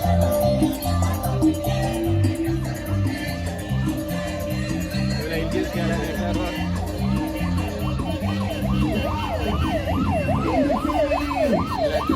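A voice imitates a wailing police siren, rising and falling repeatedly over loud music with a steady beat, at a Halloween festival in New York.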